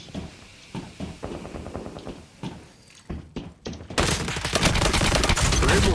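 An RP-19 submachine gun fires in the Lost Light shooter game. Several bursts of rapid shots, each with a thudding impact, are separated by short pauses, then a loud, dense stretch of continuous firing follows.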